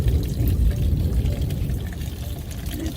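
Runoff water drains across a yard after excavator dirt work, a steady, loud, close rushing and pouring wash that continues throughout without speech.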